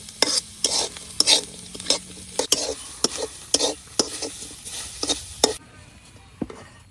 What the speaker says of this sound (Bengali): পেঁয়াজ রসুনগুলো আমি ভেজে নিছি। সব শেষে এখন শীতলগুলা ভেজে নিলাম।